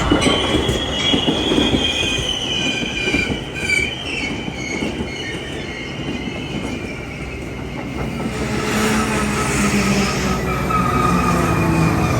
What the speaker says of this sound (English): The first train was an inbound Metra pushed by Winnebago 213.